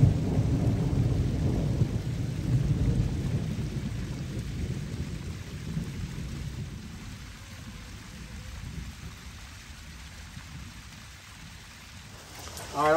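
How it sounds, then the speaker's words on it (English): Heavy pouring rain drums steadily on surfaces with low rolling thunder rumbling through, loud and close at first, easing slightly toward the end of the outdoor storm. "in the pouring rain."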